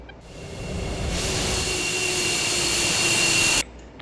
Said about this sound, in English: left engine spooling up